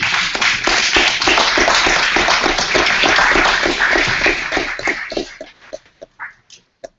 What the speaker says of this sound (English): please have a round of applause for them